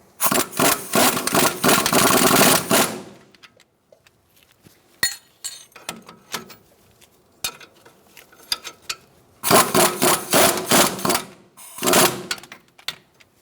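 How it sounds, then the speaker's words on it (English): Strut bolts are tightened on a 2014-2019 Kia Soul front strut and spring assembly in bursts of rapid metallic clattering, two long runs and a shorter one, separated by quieter clicks and scrapes of the tools. "We're going to tighten up our strut bolts now."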